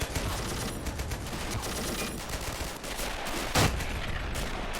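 Sustained gunfire from a World War II battle in the strategy game Men of War: Assault, with dense overlapping rifle and machine-gun shots forming a continuous loud barrage and one heavier burst near the end.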